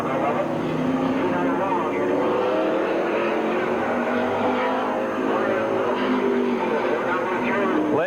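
A race car heads out onto the Midvale Speedway track at the 1985 fall classic, its engine droning steadily with a shifting pitch throughout, under crowd noise and an announcer talking.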